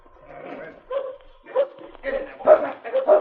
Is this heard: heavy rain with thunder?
no